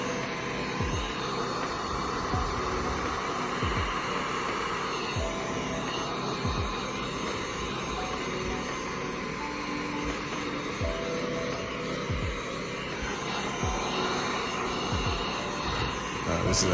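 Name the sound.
heat gun heating window tint on car door glass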